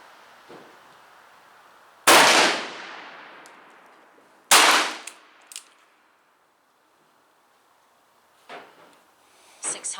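Two loud, sharp gunshots ring out at an outdoor shooting range a couple of seconds apart, each decaying into a brief echo, followed by fainter clicks and handling noises.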